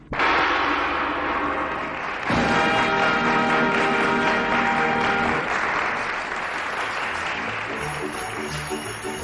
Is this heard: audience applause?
yes